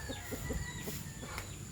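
A rooster among a flock of seven stags gives short, rapid clucks close by, a quick series of brief calls over a faint background hum.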